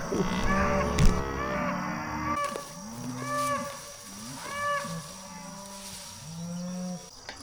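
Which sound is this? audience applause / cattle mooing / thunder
cattle mooing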